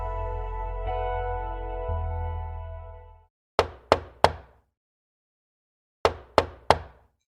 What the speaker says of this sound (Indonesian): Kali ini ada yang mulai mengetuk pintu kamarku.